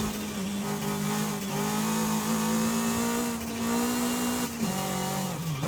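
Toyota MR2 with its mid-mounted engine accelerating in the racing game Forza Horizon 5: a loud, steady engine drone climbs in pitch, dips briefly at a gear change near the end, then pulls again, with no talking.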